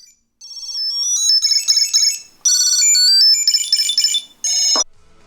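A loud, close electronic ringtone from a Tile Pro Bluetooth tracker trills through bursts of high chirping melody, pausing briefly between phrases before stopping.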